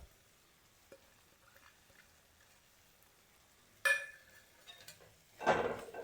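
A bottle gourd and tapioca curry with coriander leaves is stirred in a pan, mostly quiet, with a faint tap, then two short bursts of spoon scraping and clinking against the pan.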